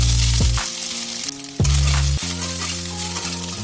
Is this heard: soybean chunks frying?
yes